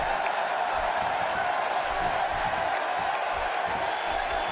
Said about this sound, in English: The crowd are getting behind Ad as he trips Travis again.